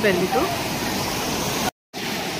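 Sea waves wash in at Radhanagar beach on Havelock Island in the Andaman Islands, a broad steady roar of surf close by, with a voice talking over it near the start.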